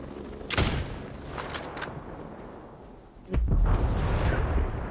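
Gunfire in the video game Ghost Recon Breakpoint comes as sharp bursts, a loud burst early and another heavy volley later, with rumbling echoes in between.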